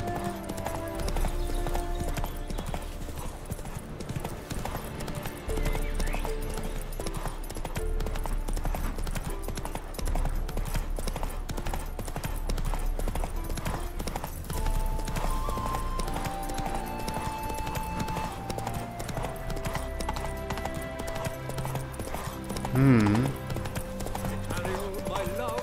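Roach the horse galloping in The Witcher 3, a continuous rhythmic clip-clop of hooves under steady game music, with someone talking over it and a brief neigh near the end.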